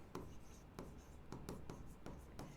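A pen moves across paper as accounting entries are written out, soft scratching strokes with faint taps in an uneven rhythm, heard close and quiet against a low room hum.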